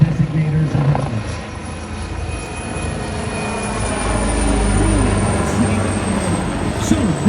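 Leonardo AW139 helicopter at the Malta International AirShow, a continuous rotor and turbine drone with a rising low rumble midway, heard outdoors at moderate distance with no talk in the clip.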